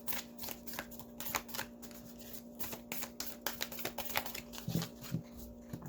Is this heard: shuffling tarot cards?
yes